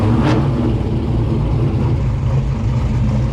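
A small-block Ford coupe fitted with Holley Sniper EFI runs outdoors, its engine rumbling loud and steady with a brief rev near the start, heard alone without talk.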